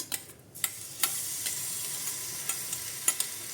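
Mustard seeds, dried red chillies and green chilli-ginger paste fry in hot oil. Small crisp crackles and ticks pop at irregular intervals over a quiet, steady sizzle, close by, with no speech.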